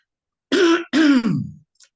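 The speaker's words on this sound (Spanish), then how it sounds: "Ay, Dios, la tos." A person clears their throat with two rough, close bursts, then gives a short cough-like rasp that trails off, with a faint click at the end.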